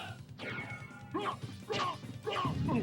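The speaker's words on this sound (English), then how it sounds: "he just smashes things with a hammer every now and then" A Frankenstein-like creature enemy in Castlevania: Symphony of the Night smashes with a hammer, giving four heavy crashing game impacts spaced about half a second apart over a low rumbling background.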